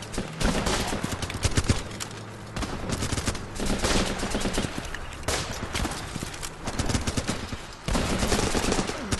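Gunfire rattles through a shooting video game, dense bursts of rapid shots that break off in short pauses and resume, loud and close across the whole stretch with no speech.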